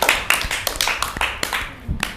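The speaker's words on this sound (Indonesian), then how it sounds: "Oke, tepuk tangan dulu tuh Bapak Agung." A small group clapping for a guest on an Indonesian podcast set: a handful of sharp, separate claps in an uneven rhythm, close and fairly loud, thinning out toward the end.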